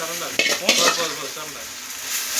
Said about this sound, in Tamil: கீரையை நல்லா கடந்து எண்ணெயில் போடுறேன்.